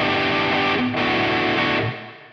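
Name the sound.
guitar through NUX Mighty Plug Pro reverb effect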